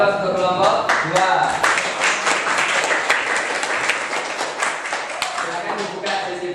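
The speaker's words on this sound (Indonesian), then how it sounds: "beri aplaus untuk kelompok 2" A classroom group claps loudly for a presenting student team, dense applause sustained throughout, close and full, with voices faintly mixed in.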